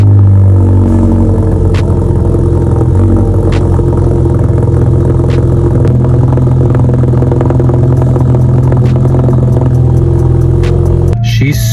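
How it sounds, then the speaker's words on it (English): VW GTI with a custom 3-inch catless exhaust, resonators deleted, catching on a cold start and settling into a loud, steady, raspy idle with faint clattering ticks, close and constant throughout. "Let's give you a cold start."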